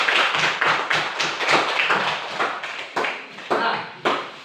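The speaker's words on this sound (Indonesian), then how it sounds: "tepuk tangan dulu" A classroom of students claps together in a rhythmic pattern, a series of sharp, loud group claps in regular beats with short pauses.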